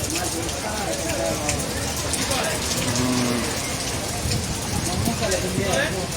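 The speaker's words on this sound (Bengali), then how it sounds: "বৃষ্টিতে হাটের অবস্থা দেখুন" Heavy rain falls steadily on the Dholaikhal cattle market in Dhaka, a dense, continuous patter over tarpaulins and ground, with people talking faintly underneath.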